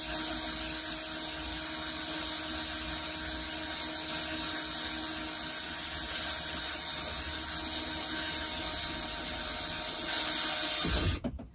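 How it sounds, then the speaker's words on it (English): A power drill bores a pilot hole into wood framing inside a van conversion, giving a long, steady whine at close range for about ten seconds before it stops abruptly, with no talk. "go ahead and drill my first pilot hole"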